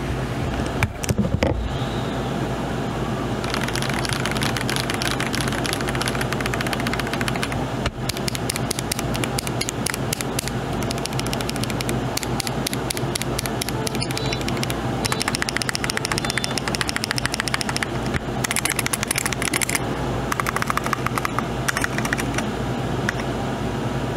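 Fast, continuous typing on a GMMK Pro mechanical keyboard with a 75% layout, close-up clacky keystrokes in quick bursts with short pauses, over a low steady background hum.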